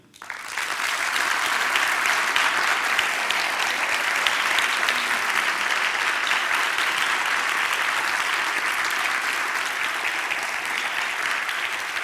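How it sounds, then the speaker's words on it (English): Sustained, even applause from an audience at the DAU Barcelona 2021 awards ceremony, honoring the organisers; dense clapping fills the whole stretch at steady volume with no voices over it. "un aplaudiment per als organitzadors i organitzadores, un aplauso para los organizadores, a round of applause for the organisers"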